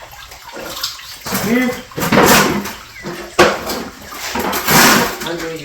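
Water is sloshed and poured into a bucket to rinse sand out of a mat at a Lake Michigan beach, coming in several loud splashing bursts with brief pauses between them, while a person speaks briefly over it.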